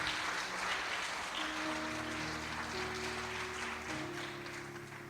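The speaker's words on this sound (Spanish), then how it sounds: "Dale un aplauso al Señor." Church congregation applauding during a sermon, a broad wash of clapping hands heard with sustained organ or keyboard chords underneath, slowly fading toward the end.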